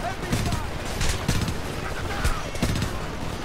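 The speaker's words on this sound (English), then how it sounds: "Is there another fucking machine gunner?" Enemy machine guns rattle through a Homefront game firefight in steady, repeated bursts with sharp cracks, loud and close throughout, under a constant din of battle noise.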